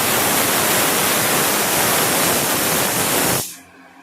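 Sliced onions and nigella seeds hit very hot oil in a pan with a loud, dense hissing sizzle that holds steady for several seconds and then cuts off abruptly, leaving quiet background.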